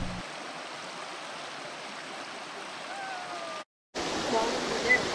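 Steady broadband rush of water flowing downstream into a river from the overflowing Johnston Canyon Inkpots in Banff, continuous and moderately loud, briefly cut by a short silent gap near the end.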